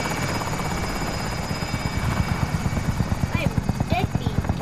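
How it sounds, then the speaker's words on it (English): An enemy attack helicopter in the Call of Duty: Modern Warfare video game, its rotor chopping in a fast steady thump that grows more pronounced, with brief game sounds over it. "Enemy attack chopper is in the AO."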